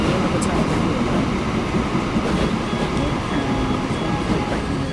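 A fuel train in the video game Transport Fever 2, on an 1880s railway map, rumbles past in a steady, loud, continuous roll with faint wheel clatter and no gaps.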